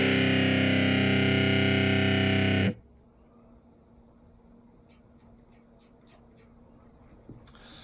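A thick, buzzing fuzz-distorted guitar chord from an Empress ZOIA pedal rings loudly for a few seconds, then cuts off abruptly, leaving faint hiss and a few soft clicks.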